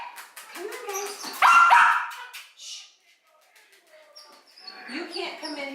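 Six-week-old puppies bark and yip in short bursts at close range, mixed with a voice talking over them, followed by a brief lull before more high yips return.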